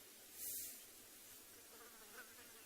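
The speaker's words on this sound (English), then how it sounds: "You can also hear lots of flies and things buzzing around us." Flies and other insects buzz continuously around a group on a morning safari at a waterhole at Tswalu in the Kalahari, a faint, steady drone with one louder pass near the start.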